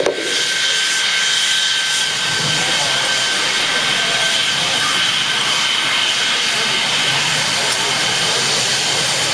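Jet engines roar as Red Arrows aircraft depart an airfield near London, a steady, loud hiss-like whine that holds through the whole stretch, with no talking.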